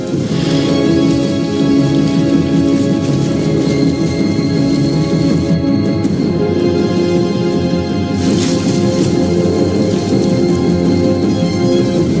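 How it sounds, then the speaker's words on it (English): Heavy monsoon rain pouring down in a dense, loud, continuous hiss with a low rumble underneath, steady throughout with no voices. "Severe monsoon rains have transformed shallow rivers into lethal torrents."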